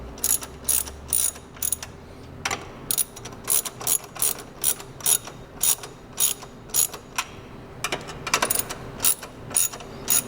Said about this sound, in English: Once you got the battery holder right where you want it, go ahead and tighten down the nuts.